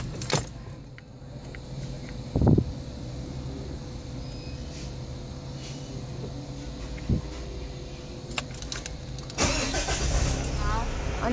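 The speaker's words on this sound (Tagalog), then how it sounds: "Start ko pala muna yung sasakyan. Parang iwa-warm up lang muna." A car engine cranks and catches, then settles into a steady low idle as it warms up, with a jangle of keys near the start and a louder surge of activity toward the end.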